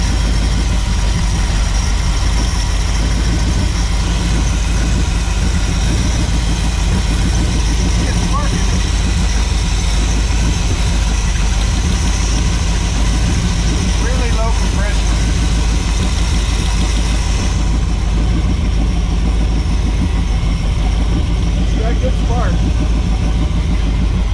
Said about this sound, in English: this engine is just really worn out